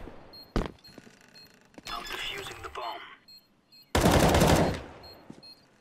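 Loud bursts of video game gunfire, a sharp shot followed by longer rattling volleys, with a crackling burst standing out near the end.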